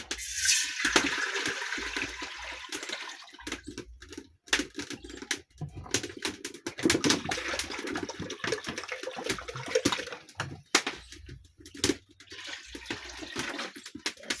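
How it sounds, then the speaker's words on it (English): Water pours and splashes into a sufuria, a metal cooking pot, set on stones over a wood fire outdoors, a loud, continuous gurgling rush broken by short pauses, with no talk. "So the next thing, I will add water."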